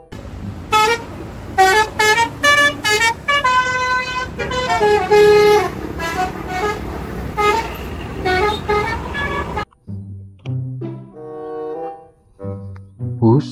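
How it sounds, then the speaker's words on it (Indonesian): Satya Negara bus in Indonesia sounding a loud, rhythmic melodic horn in repeated bursts of tooting notes over engine noise, close by, then quieter horn phrases near the end as it moves on. "Bus Satya Negara teman-teman."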